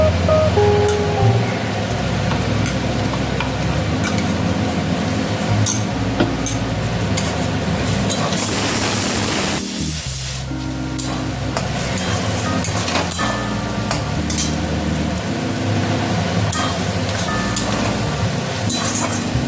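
Garlic, ginger and green chilli paste fries with browned onions in a pan while making biriyani, a steady dense sizzle with stirring scrapes running throughout, briefly hushing near the middle before resuming, no talk.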